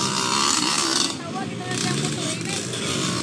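A motorcycle engine at a drag race roars and revs loudly, with a rough, continuous drone that dips briefly and surges again, while spectators shout and talk excitedly close by.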